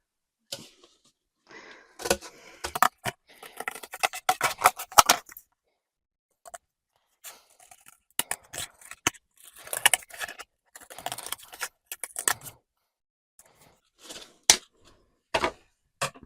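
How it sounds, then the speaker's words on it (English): Scissors cut a circle from cardboard, with sharp crisp snips in irregular bursts, close and clear with quiet pauses between. "Cut out the circle carefully."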